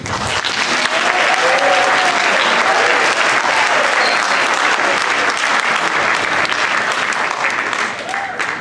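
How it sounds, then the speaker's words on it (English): An audience at a congressional candidates' debate in the Harwich High School auditorium breaks into loud, sustained applause, a dense wash of clapping that holds steady for several seconds before starting to fade. "Please give us a round of applause for the Democratic nominee, Representative Keating."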